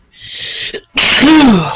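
A single loud, close human sneeze: a sharp inhaled build-up, a brief pause, then the forceful burst with a voiced tail trailing off.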